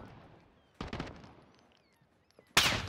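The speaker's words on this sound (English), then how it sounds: "Give me cover fire." Two short bursts of rapid gunfire from a video game, the first fading over about a second and the second sharper and louder at the end, with quiet stretches between.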